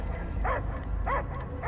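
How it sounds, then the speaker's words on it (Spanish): A dog barks in the Guardians of the Galaxy video game, giving three short barks at a steady rhythm that sit slightly back in the mix over a constant low game ambience. "¡Yo solo oigo ladridos!"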